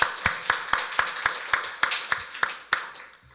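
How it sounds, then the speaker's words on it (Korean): A church congregation at a Korean Sunday worship service claps together in a steady rhythm, about a dozen sharp, evenly spaced claps in unison that taper off toward the end. "하나님께 박수로 영광 돌리겠습니다"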